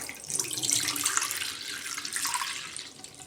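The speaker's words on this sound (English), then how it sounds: "Pour the jar down the drain" RV antifreeze streams from a jar down a sink drain to keep the trap from freezing, a steady close rushing pour lasting a few seconds without talk.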